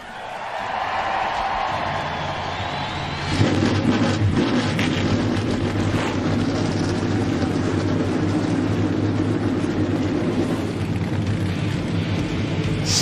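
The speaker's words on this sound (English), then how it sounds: "start your engines!" Many NASCAR stock car engines fire up together at Michigan International Speedway, a dense roaring rumble that jumps louder a few seconds in and holds steady over crowd noise.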